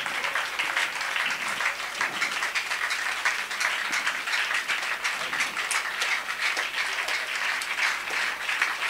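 Church congregation applauding after a sermon, a steady, dense wash of many hands clapping throughout, fairly close and uniform, with no speech over it.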